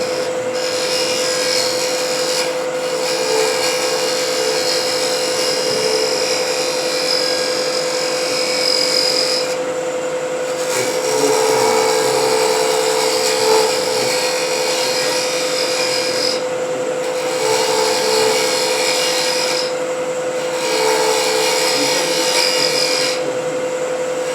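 A jewelry lathe runs steadily and close up with a constant whine throughout, and slight shifts in tone show the tool cutting into the turning piece, with no talking heard.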